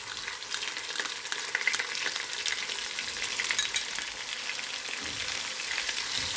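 Ginger garlic paste frying with onion in oil for keema biryani, a continuous bright sizzle with crackles and stirring scrapes, fairly close and steady.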